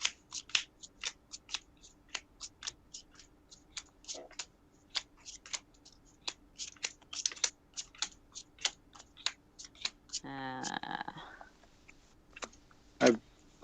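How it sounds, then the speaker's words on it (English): A deck of Magic: The Gathering cards is shuffled by hand, with many sharp riffling snaps in an irregular rhythm, close and fairly quiet, plus a brief longer rustle near the end. "It's gonna take me a while to shuffle it."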